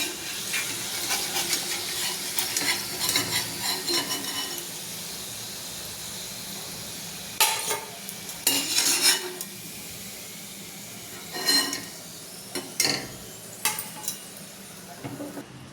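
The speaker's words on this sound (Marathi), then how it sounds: "आता असेच सगळे तळून घ्यायचे" Modaks deep-frying in hot oil, a steady close sizzle with scattered louder bursts and crackles as pieces are turned and moved, no voices.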